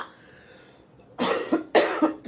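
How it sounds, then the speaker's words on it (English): A person with a cough, on the Kenyan coast at Diani Beach, coughs in two close, harsh bursts, each with a couple of hacking pulses, after a quiet start. "fighting a cough"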